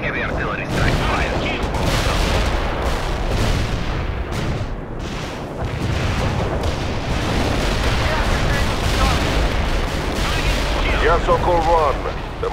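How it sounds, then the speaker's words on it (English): A heavy artillery strike in a World in Conflict battle in Berlin sends dense rolling booms and explosions rumbling continuously, with radio-style voices talking over the barrage. "Heavy artillery strike. Fire."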